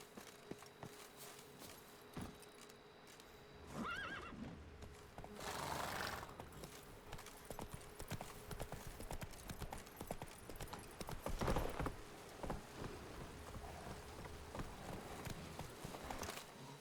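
In The Witcher 3, the horse Roach clip-clops along with steady hoofbeats and lets out a whinny, heard fairly quietly amid in-game ambience.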